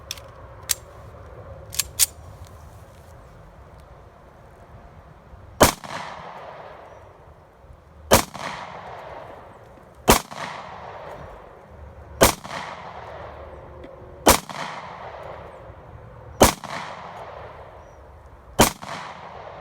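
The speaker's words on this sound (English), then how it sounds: "going to give the 45 ACP a shot" A .45 ACP pistol is fired during munitions testing: eight loud, sharp shots spaced about two seconds apart, each with a short ringing tail, after a few faint clicks at the start.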